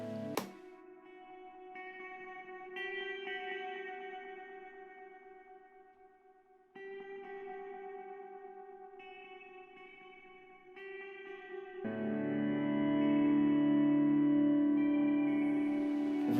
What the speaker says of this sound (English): playing a chord and then like turning up the volume knob on my guitar basically to make it sort of swell, and then obviously added a whole load of reverb